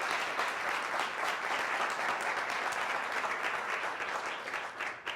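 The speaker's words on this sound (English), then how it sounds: "let's give Anant a round of applause" An audience at an education conversation event applauds for several seconds, a dense, even wash of clapping that tapers off at the end.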